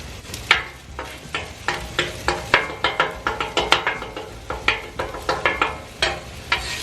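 Leftover sliced ribeye steak sizzles on a Blackstone flat-top griddle, with a steady hiss broken by a brisk run of repeated metal spatula scrapes and taps, close and fairly loud, no talking.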